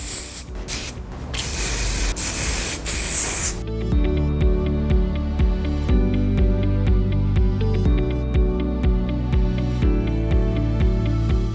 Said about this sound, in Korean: 오늘 스프레이로 마무리 한번 해볼게요